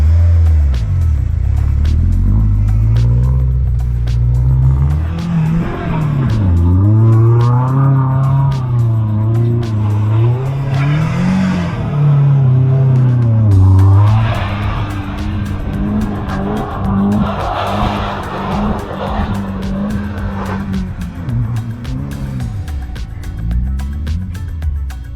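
A 2022 Subaru WRX or 2020 STI does donuts on a track, its engine droning loud and close throughout while the tires squeal and skid in long, wavering sweeps, with the revs rising and falling as it spins.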